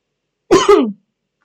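A single short double cough from a man, sharp and close, followed by silence.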